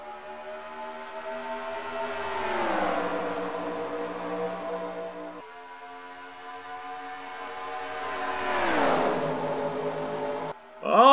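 ARCA stock cars at the green flag start at Chicagoland roar past, engines rising then dropping in pitch, with two loud, sweeping passes a few seconds apart and a sharp burst at the end.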